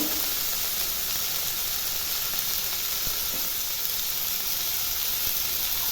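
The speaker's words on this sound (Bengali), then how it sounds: "টমেটো দিয়ে একটু ভেজে নেবো" Steady, dense sizzling of tomatoes frying in a pan, a continuous hiss with faint crackles throughout and no voices.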